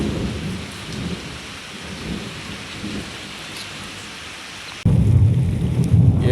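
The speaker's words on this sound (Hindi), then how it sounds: "ये सामने देखें बारिश अभी शुरू हो गई है।" Steady rain pours over a wheat-harvest field, with low thunder rumbling underneath; at about five seconds the downpour suddenly grows louder and heavier, no voices.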